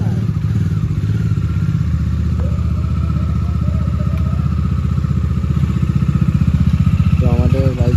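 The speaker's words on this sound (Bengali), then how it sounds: "তো আমাদের বাইক বেরোলো একটা" A motorcycle at the start of a ride from Kolkata, its engine loud and close with a steady throbbing idle and a rising rev as it pulls away, while someone talks over it.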